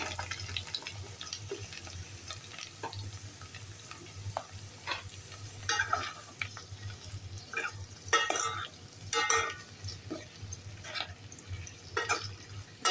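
Chicken hotdogs frying in a pan, a steady close sizzle with scattered stirring clatters and scrapes throughout.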